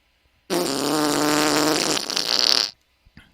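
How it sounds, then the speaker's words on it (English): A long, loud, buzzing fart sound effect, lasting about two seconds, with a wavering tone that rises to a raspy finish before cutting off, played alone with no talk. "Can we give him a fart noise, please?"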